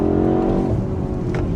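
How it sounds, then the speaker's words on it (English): A BMW's engine drones steadily from inside the cabin while the car is driven hard through corners. The sound is a continuous, loud, low hum with no talking over it. "it actually sounds pretty good when you're from inside the cabin when you're ripping it around"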